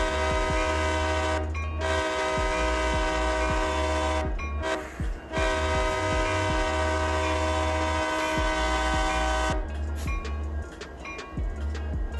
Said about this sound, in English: These units are mostly equipped with K3LA horns.